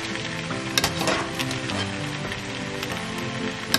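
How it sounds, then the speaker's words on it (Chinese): Slices of luncheon meat frying in a pan to render out some fat, giving a steady close sizzle with light crackles and occasional spatters throughout. "稍微煎一下午餐肉"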